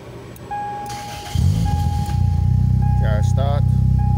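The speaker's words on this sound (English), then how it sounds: "Car will start now" A Toyota Corolla with a 2NZ/2ZZ engine and a bypassed air flow meter cranks, fires up and revs, the engine growling louder after starting while someone talks briefly over it.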